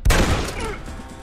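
A sharp, close gunshot cracks out in Red Dead Redemption at a US Army shootout, followed by a decaying rumble and scattered echoing fire in the background.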